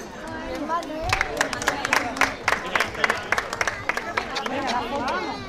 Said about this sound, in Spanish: Un aplauso para la mandada